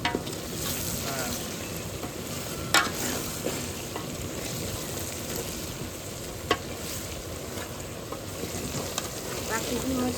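Vegetables fry in hot oil in a home kitchen, a dense continuous sizzle close to the microphone with a few sharp clatters of stirring and no talking.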